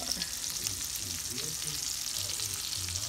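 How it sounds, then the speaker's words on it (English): Food simmers in a 13.25-quart round Le Creuset French oven, giving a soft, steady sizzling hiss with faint bubbling, heard alone and fairly quiet. "gonna just let this simmer and I'll get back to it"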